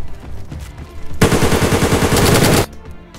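In the DayZ video game, a loud, rapid burst of automatic gunfire rattles for about a second and a half, preceded and followed by quieter background noise.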